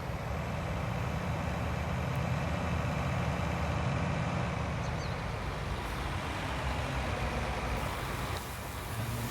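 A farm tractor engine idles steadily in a farming simulator game, a constant low rumble holding at an even level throughout with no talk over it.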